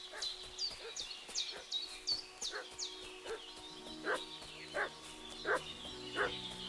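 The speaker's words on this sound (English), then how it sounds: "What's that dog making such a fuss about?" A dog barks repeatedly in Kingdom Come Deliverance 2, a string of sharp, fairly faint barks at a distance, spaced roughly half a second to a second apart.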